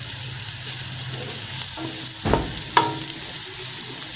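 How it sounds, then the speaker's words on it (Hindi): Ginger and garlic fry in a pan for an aloo gajar curry, a steady broadband sizzle running throughout at moderate level, with a couple of brief sharper stirring scrapes near the middle and no talk. "ये मैंने अदरक और जो लहसुन डाला है वो भून रही हूँ"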